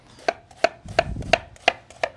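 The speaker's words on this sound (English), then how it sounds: "we're just gonna do a small dice on the onion" A knife dices an onion on a cutting board, about six crisp evenly spaced knocks, close and clear with no voices.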